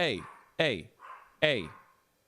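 Dogs let out three loud, close, agitated barks in quick succession, with a softer whine-like yelp between the second and third, sounding upset and worked up.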